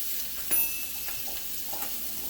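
Soft, steady sizzling of bologna frying in a pan, a low crackling hiss with faint pops and one brief louder clatter, no voices.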